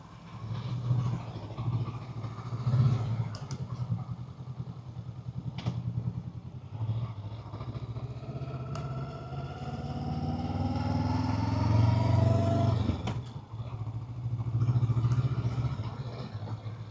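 A CL 500 motorcycle engine runs close by, idling and then revving higher as it rides off, with some clattering and a steady mechanical hum.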